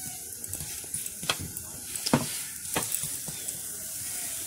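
Sooji dosa sizzles steadily in a hot pan, a continuous bright hiss with occasional sharper crackles and spatters, close and moderately loud throughout.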